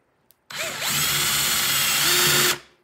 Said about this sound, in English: So I will put the drill bit into the hole and then drill straight down.